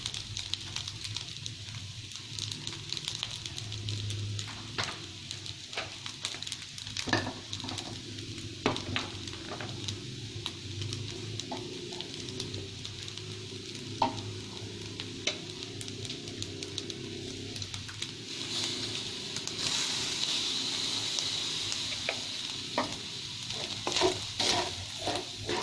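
Rice fries after oyster sauce and fish sauce are added, giving a continuous close sizzle broken by frequent stirring scrapes and light pan knocks, with the sizzle swelling louder toward the end.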